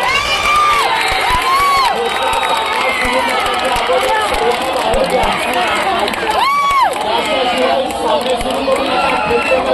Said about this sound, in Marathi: कृपया मधल्या पट्टीमध्ये प्रेक्षकांची गर्दी वाढली आहे.